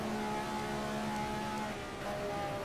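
A Ferrari 312 engine runs at full throttle on the Nordschleife in a racing simulator, holding a steady, loud, even drone with a brief dip in tone near the end.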